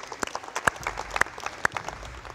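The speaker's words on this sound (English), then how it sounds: "We'll give them a round of applause, coaches," A few scattered handclaps from coaches at a basketball conditioning drill session, sharp and irregular rather than a full sustained ovation.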